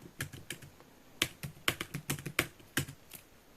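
Computer keyboard keys tapped in an irregular burst of about a dozen clicks, close and quiet, including a save shortcut press, with no voices.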